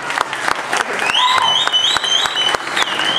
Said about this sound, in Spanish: Si van a aplaudir, que sea parejo.